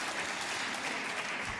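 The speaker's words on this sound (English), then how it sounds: "Might have heard some clapping there." An audience applauding at a snooker match at the German Masters, steady sustained clapping from a crowd heard at a moderate distance.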